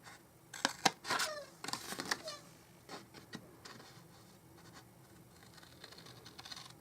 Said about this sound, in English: My scissors must need oiling because they're squeaking.